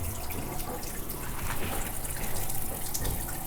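Hot water gushes steadily from the tap of a biogas-fired instant water heater on a goat dairy farm, a close, continuous splashing stream into the basin with no talk.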